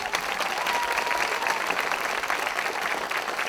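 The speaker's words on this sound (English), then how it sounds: "can we hear a big, big, big applause for them" A school audience of children applauds steadily for the technology department, dense continuous clapping at an even level throughout with no pauses.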